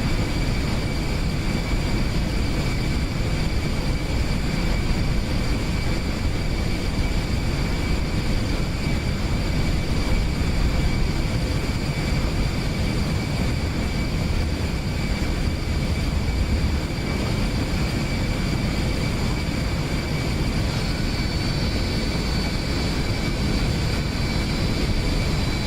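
Eclipse 550 business jet in X-Plane 11 climbing after takeoff with gear and flaps retracting, a loud steady engine roar with a constant high whine held throughout.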